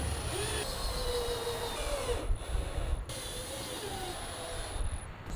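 A handheld power drill bores holes in the wooden ribs of a Yardistry 12x16 gazebo, whirring in rising and falling bursts with short pauses between holes, close and fairly loud.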